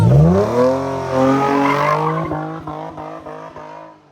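A drift car skids with loud, sustained tire squeal and a revving engine during stunt show practice at Mission Raceway. The engine then drops into a choppy, rhythmic stutter, close and alone.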